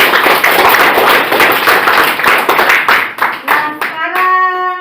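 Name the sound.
class clapping hands for group 1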